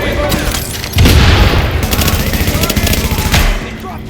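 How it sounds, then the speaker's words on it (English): Heavy gunfire and booming explosions from the video game The Division, loud and continuous, with rapid bursts of shots layered over deep blasts in a dense, chaotic firefight. "you hear bullets pinging off cover, grenades bouncing, your squad calling out"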